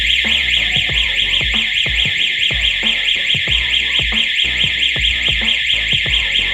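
A loud electronic siren is tested at close range, sounding a continuous rapid warbling wail that repeats steadily throughout, with low thumping noises underneath and no speech.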